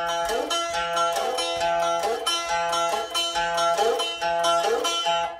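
Electric guitar lick played alone: plucked notes on a low string and a high string, then a slide up. Repeated in a steady phrase over about five seconds, moderately loud and ringing.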